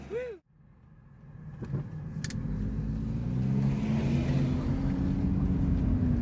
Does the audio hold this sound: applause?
no